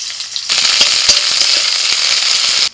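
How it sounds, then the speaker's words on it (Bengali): Chopped onion hits hot oil in a wok and bursts into a loud, steady sizzle that crackles continuously after a quieter start, then stops abruptly. "দিয়ে দিচ্ছি পেঁয়াজ কুচি"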